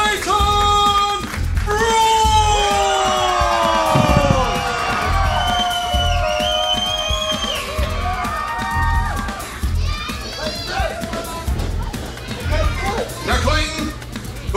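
Crowd at a Texas pro wrestling show in Waxahachie cheering and whooping, with children's excited shouts rising and falling under an announcer's amplified voice, lively and sustained.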